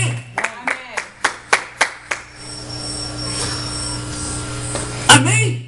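Eight or so sharp, evenly spaced claps ring out in a church congregation during Pastor Fernando's sermon, then stop, leaving a steady electrical hum and faint room murmur.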